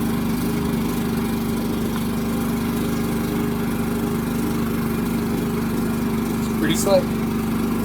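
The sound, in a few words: Firman generator running on RV onboard propane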